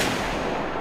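A single gunshot from the 2003 film Oldboy lands as a short, loud, broadband blast that fills the whole moment.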